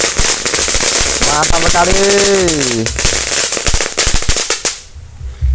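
Dinosaur firecrackers burst in rapid crackling volleys inside a pan, loud and dense throughout, with a whistling rising-falling tone in the middle and a voice speaking briefly before fading to quiet.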